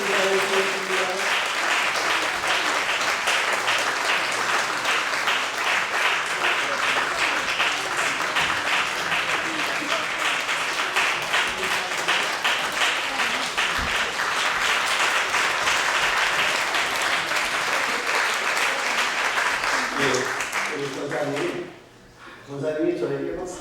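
A church congregation at a 40th-anniversary worship service applauds loudly and steadily for about twenty seconds, dense clapping filling the room before it thins out and breaks off near the end.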